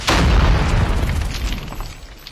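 A grenade goes off in the Call of Duty Mobile shooter game, a single loud, deep boom that hits at once and then rumbles and decays over about two seconds, with no talk over it.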